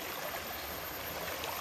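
A river stream flows in a continuous, even rush of water, a soft broadband hiss with no voices over it.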